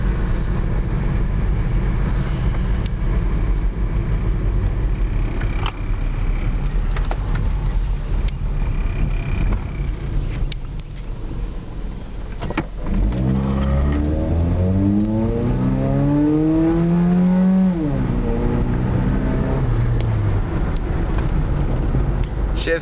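A 2001 Mitsubishi Galant with freshly changed transmission fluid drives along with a steady road and engine drone, then accelerates with the engine note climbing and dipping through smooth gear shifts, heard from inside the car.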